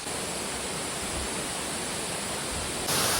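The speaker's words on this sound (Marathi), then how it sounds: "प्रेजेंटिंग ऑफ धबधबा वॉटरफॉल घोघाट" A waterfall roars as a constant broadband rush, even and fairly loud throughout, with no voices over it.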